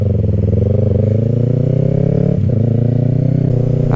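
Onboard engine of a Yamaha YZF R3 motorcycle, with an M4 exhaust, a loud steady buzzing drone held close with a slight pitch dip midway, continuous and without voices.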